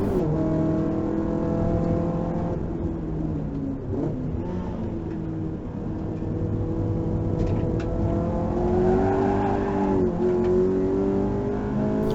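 A race car engine drones loudly throughout a lap on a circuit, its pitch dropping and climbing through gear shifts, with a steady harmonic roar heard close and alone.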